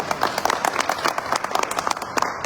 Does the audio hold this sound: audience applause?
yes